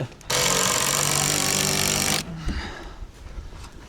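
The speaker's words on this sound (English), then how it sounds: "I'll just screw them in and then we'll get the right lag screws and do it that way." A power drill drives screws into a greenhouse frame in snowy winter weather, one loud continuous whir of about two seconds followed by a short quieter rattle.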